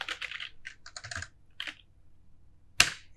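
Typing on a computer keyboard while entering text into an Excel spreadsheet: several short bursts of close, crisp key clicks with pauses between, ending in one louder sharp keystroke.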